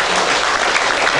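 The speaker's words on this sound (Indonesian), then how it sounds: "kita berikan tepuk tangan yang mulia" Dense, steady audience applause filling the room at a formal Indonesian ceremony, loud and continuous with no voices over it.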